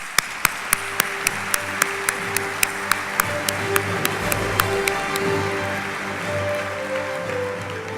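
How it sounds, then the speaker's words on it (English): Audience applause at an Air Warfare Symposium, a broad wash of clapping that begins with a series of sharp rhythmic taps, then settles into steady, moderately loud clapping with a low hum underneath. "please join me in thanking all of our corporate sponsors with a round of applause"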